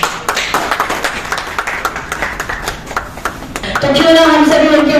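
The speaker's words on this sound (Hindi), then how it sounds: "एक जोरदार तालियां होनी चाहिए" An audience claps at a public event honouring a former JDU MLC, a steady run of close, rhythmic hand claps, after which a voice starts speaking at the end.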